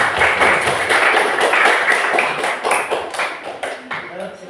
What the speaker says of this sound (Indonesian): Yuk, tepuk tangan dulu ke kelompok 4.